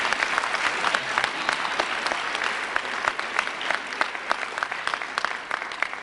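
A commencement audience at the 2013 Clinton School of Public Service ceremony claps steadily in a dense, sustained burst. The near, full applause carries scattered sharper claps and no talk over it.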